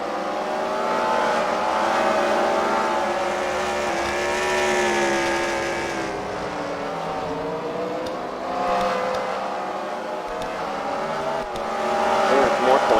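Race cars roar around a track during a fight-night demolition-style race at The Freedom Factory, engines droning and revving continuously with shifting pitch as cars pass, under an announcer's commentary.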